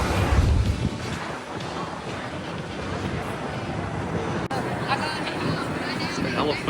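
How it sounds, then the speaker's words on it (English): Strong wind buffets a microphone on a Puerto Rico beach as a constant loud roar, with faint surf and background people mixed in beneath it. "Surprisingly very windy. Very windy right now"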